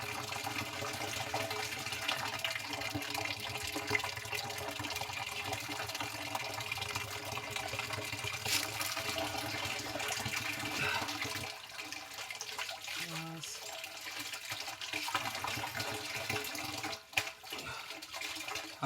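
Water flowing through a mountain supply pipe, a continuous gushing, splashing rush with a gurgling tone, close and steady, briefly dipping near the end.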